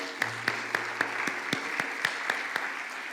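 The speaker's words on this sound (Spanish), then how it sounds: "Un aplauso a Dios por sus vidas." A church congregation claps at a service in crisp, evenly spaced beats, like a steady rhythmic clap, fairly faint, with a low hum underneath.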